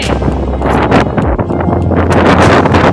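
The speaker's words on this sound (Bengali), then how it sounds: "দেখছো কত হাওয়া দিচ্ছে" Strong wind sweeps across a rooftop before rain, loud gusts buffeting the microphone in rough, roaring bursts that swell and ease without pause.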